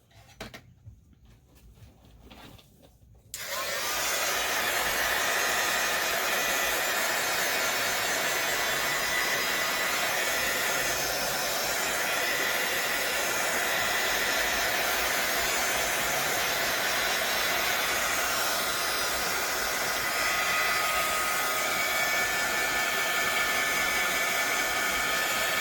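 A hair dryer switches on after a few quiet seconds and then blows with a steady, loud whoosh to dry a napkin collage, running continuously without talk.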